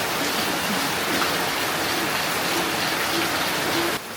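Heavy rain pours down in a dense, constant hiss of drops on surfaces, loud and close, cutting off abruptly at the end.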